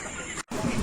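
Colorbird chickens in a crowded poultry shed give off a dense, steady wash of clucking and calls, broken by a brief drop into silence midway before the flock noise resumes.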